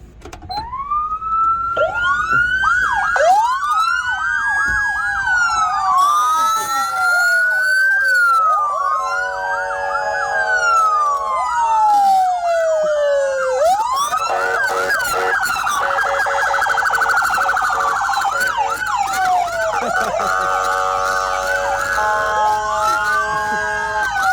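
Several police car sirens sounding off together, wailing and yelping, loud and close, their rising and falling tones overlapping continuously.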